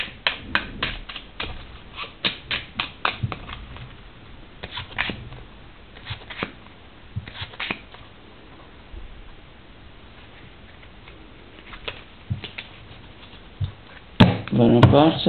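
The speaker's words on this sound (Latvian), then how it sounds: "Tagad mēs šīs kārtas varam samaisīt." Playing cards being shuffled by hand for a magic trick with two queens, heard as bursts of quick riffling clicks and taps at close range with pauses between, and a louder rustle at the end.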